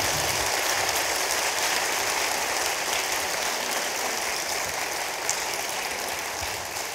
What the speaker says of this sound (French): Benjamin Dubzinski, on vous applaudit.